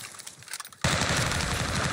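Sustained automatic gunfire from Call of Duty: Warzone bursts in loudly and continues densely without pause, following a quieter stretch of scattered softer shots.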